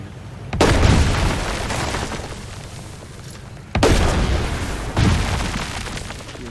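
Mortar fire in the WW2 strategy game Headquarters WW2: three heavy booming blasts, each a sudden loud impact trailing into a long rumbling decay, with a gap of a few seconds between them.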